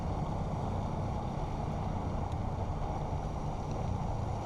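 Strong wind buffeting the microphone beside a Florida pond, a dense continuous roar and rustle with no pauses, fairly loud and alone.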